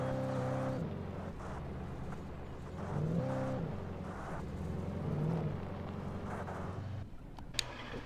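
A car drives steadily through an urban area in Alan Wake Remastered, its engine droning continuously with a couple of brief swells in pitch, close and alone with no speech.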